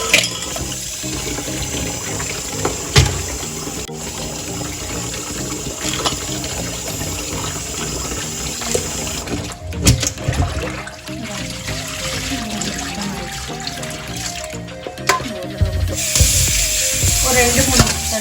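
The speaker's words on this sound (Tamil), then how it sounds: "அது லைட்டாக பெரட்டி நம்ம நல்லாவே டேப் வாட்டரில் கழுவியாச்சு" Running tap water pours and splashes in a kitchen sink while a crab is rinsed and turned by hand, with clattering and handling noises over the steady flow.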